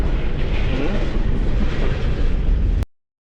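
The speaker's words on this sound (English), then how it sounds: "what do you think of the train, Brutus?" A train passes through Cajon Pass with a dense, loud, continuous roar that holds steady for nearly three seconds and then cuts off abruptly into silence.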